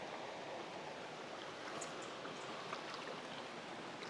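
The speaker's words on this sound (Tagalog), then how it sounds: "Yung magandang lagaslas ng tubig doon." A river flows at Ilog Anus in Barangay Baliwag, Magallanes, Cavite, giving a steady, soft, even wash of running water with no talk.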